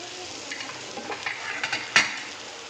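Masala for a Vidarbha-style pea curry stirred in a hot pan, a soft sizzle under scraping strokes of a spoon, with a sharper clink near the end and no voices.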